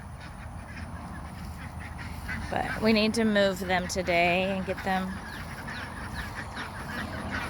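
Ancona ducks quacking in a bursty cluster of harmonic calls outdoors in a garden, mid-loud and close, with a person talking over and around them.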